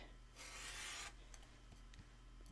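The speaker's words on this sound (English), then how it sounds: "I'm just going to take my rotary cutter" A rotary cutter slices once through quilt fabric along a stitch line, making a soft, close rasping swipe that lasts under a second over a quiet room hum.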